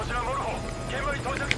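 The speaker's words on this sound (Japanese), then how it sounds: "ヘリの音はそれに不審どころじゃない" Enemy helicopter circling overhead in Metal Gear Solid V: Ground Zeroes, a steady rotor drone running the full length at moderate level, mixed with game ambience while several people talk over it.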